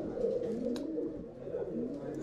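Soft, low cooing of ringed pigeons close by, a continuous murmuring rumble with a faint bird-like click partway through.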